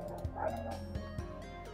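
A dog in the video game Void Breach, set in an eighties house, giving a few short yips and whimpering barks at close range over a steady game ambience.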